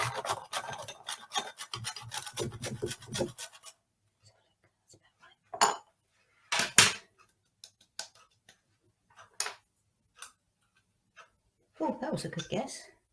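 Whole nutmeg grated by hand in a kitchen, a dry rasping scrape in quick bursts, heavy at the start and again at the end, with a few short strokes between and a voice talking near the beginning.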